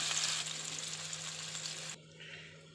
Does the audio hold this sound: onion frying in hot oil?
yes